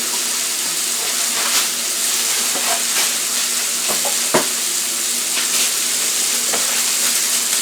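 A freshly flipped rib eye steak sizzles loudly and steadily on a hot grill, a dense hiss broken by occasional pops and crackles, close up with no talking.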